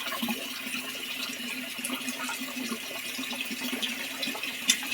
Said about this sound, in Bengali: কুমড়ো শাকটা আমি ধুয়ে নিচ্ছি। ভালো করে জলে ভালো করে